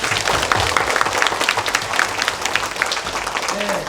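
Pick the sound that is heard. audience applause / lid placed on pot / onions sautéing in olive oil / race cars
audience applause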